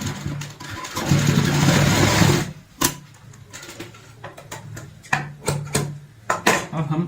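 Sewing machine running a stitch along the folded edges of a velvet travel bag, a burst of steady motor whir for about two seconds, then short stop-start runs with quiet gaps between them.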